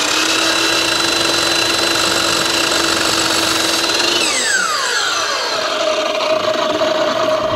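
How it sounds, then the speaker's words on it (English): A rigid miter box saw cuts American chestnut stock for picture frame sides, a loud steady sawing drone that shifts in pitch near the end of the stroke, with no voices. "Not a big fan of this rigid miter box. It's kind of big and awkward, but it works well."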